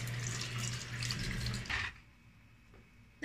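Water runs from a household tap into a sink, a steady splashing flow up close that stops abruptly partway through, leaving near silence.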